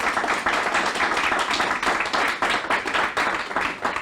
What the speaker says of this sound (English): So y'all give them a round of applause.